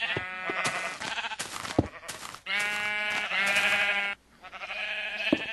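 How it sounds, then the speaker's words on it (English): Sheep bleating in the video game Minecraft, several loud, drawn-out baas following one another, some overlapping, with brief clicks between calls. "I'm just going to get all the sheep into their pens."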